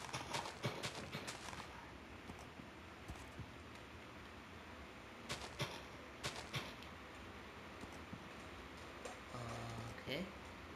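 Horse hooves clatter in a fast, irregular clip-clop rhythm while riding in the Minecraft video game, sharp repeated hits close up over a steady hiss, with a person talking throughout.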